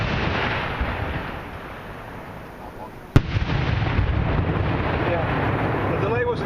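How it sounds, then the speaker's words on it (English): A 3-inch color firework shell fires from its mortar tube after a hang-fire delay at a live-fire demonstration: a sharp, loud single thump partway through, set against outdoor wind noise and a low background rumble. "This is a 3-inch color shell hang fire."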